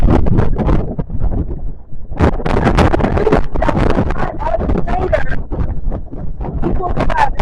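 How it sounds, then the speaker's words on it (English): Strong wind gusts buffet the microphone at the Meteor Crater outdoors, loud low rumbling bursts that come and go under and between a guide's speech. "Yeah, the wind does like to gut me, especially when I'm talking"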